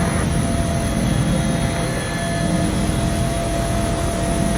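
A Bell 412 helicopter hovers while winching in the X-Plane 11 flight simulator, giving a loud, steady, broadband engine and rotor roar that stays constant throughout with no voices.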